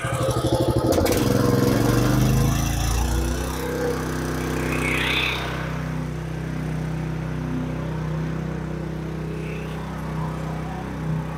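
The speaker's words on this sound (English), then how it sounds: "So I go and accelerate the engine" A small engine revs hard to full throttle for about three seconds, loud and near, then settles into a steady, quieter hum that runs on alone.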